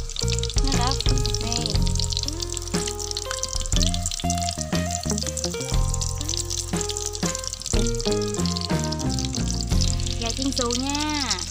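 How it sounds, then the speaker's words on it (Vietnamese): Oil sizzles and crackles steadily as breaded chicken breast deep-fries, heard under loud background music with melodic tones throughout. "ức gà chiên xù nha các bạn."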